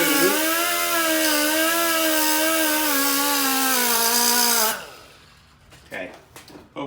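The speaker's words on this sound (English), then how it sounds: "just real carefully grind them smooth." A power grinder smooths the cut end of an AN fitting, a loud, steady high whine for nearly five seconds that then spins down, followed by faint handling noises.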